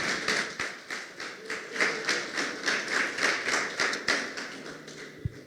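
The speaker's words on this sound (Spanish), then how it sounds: "Un aplauso a todos esos sinceros" Rhythmic clapping from a church congregation at a men's territorial congress, steady hand claps of many people in unison with a quick beat, fairly loud and close, no talking over it.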